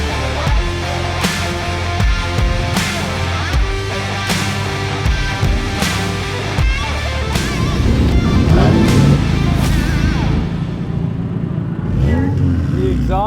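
An endurance race car with 186 horsepower and a side exhaust revs loudly and close up, its engine note rising and falling in repeated pulses with a rough mechanical rasp, while voices talk underneath.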